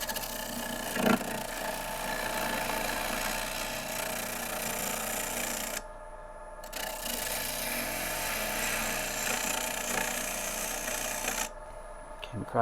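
Maple crotch blank spinning on a wood lathe while a pointy gouge cuts inside the shadow line, a steady whirring, scraping drone broken by two brief pauses near the middle and the end.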